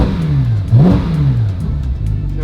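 Ferrari 458 GT3 Spider V8 engine blipping upward in rapid revs that bounce off a soft rev limiter at 4,000 rpm, loud and close, heard from the cabin with the exhaust muffled.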